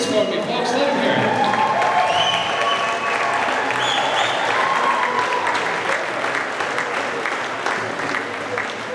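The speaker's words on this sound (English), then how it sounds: "Applaud them back to their seats for me, folks. Let them hear it." Audience at a hypnosis show at a Punta Cana resort claps steadily and fairly loudly as volunteers return to their seats, with a few voices and whoops mixed into the sustained applause.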